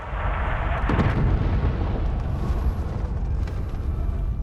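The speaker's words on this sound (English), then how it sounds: "It's raining fire from the sky!" Fiery bombardment rains from the sky in ESO Morrowind, a deep rumbling roar with a heavy impact near the start, then a sustained crackling, thunderous wash.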